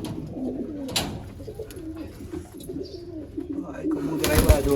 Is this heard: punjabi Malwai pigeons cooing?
yes